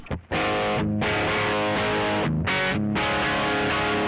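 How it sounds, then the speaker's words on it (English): An electric guitar plays heavily distorted chords through an amp, loud and sustained, with brief pauses between ringing strums. "you just can't beat amp distortion."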